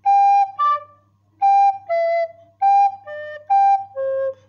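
A flute plays a melody as a series of clear, pure notes in short paired phrases with brief gaps between them, played alone with no voices.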